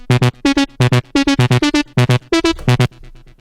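Two layered synth lead oscillators with added noise for a future rave track play a punchy staccato riff of bright, harmonically dense stabs in quick groups, loud and upfront, ending on a short fading tail.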